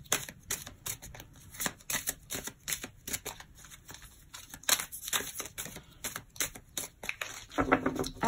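Tarot cards are shuffled and cut by hand, a close, rapid run of crisp flicking and riffling clicks in uneven bursts with no talk.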